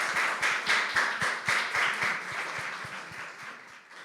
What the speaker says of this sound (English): Could you just give them a round of applause?